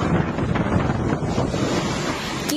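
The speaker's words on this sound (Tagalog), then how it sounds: "Kita naman sa videong ito ang paglipad ng yero dahil sa malakas na hangin." Typhoon-strength wind in Cagayan, Philippines roars steadily across the microphone, a dense, blustery rush with turbulent gusts and no voices.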